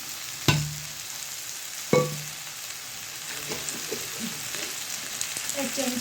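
Oil sizzles in a pan while tengra fish is fried with eggplant and potato. Two sharp clatters from stirring are followed by a soft, steady crackle and sizzle close by, with scattered small pops.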